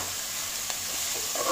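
Onion and capsicum sautéing in a pan, a steady bright sizzle with a light stir scrape, close and alone without talk.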